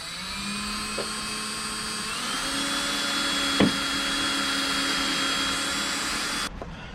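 A power drill whines steadily with shifting tones, bit grinding into a Jeep Wrangler's metal tailgate, punctuated by a brief clunk midway before the motor cuts off.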